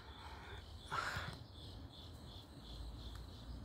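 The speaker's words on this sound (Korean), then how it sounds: "귀뚜라미 소리" Crickets chirp on Palryongsan, a mountain setting, as a faint, steady, high pulsing trill throughout, with a brief louder rustle of noise about a second in and no voices.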